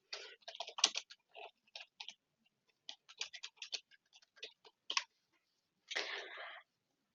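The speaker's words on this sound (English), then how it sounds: "I could simply just type whatever I need to here." Typing on a computer keyboard, with quick bursts of close, light key clicks separated by brief pauses and ending in a longer run of rapid taps.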